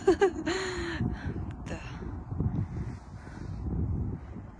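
Strong wind buffets the microphone while cycling outdoors, a continuous low rumbling roar with uneven gusts that stays loud throughout the clip.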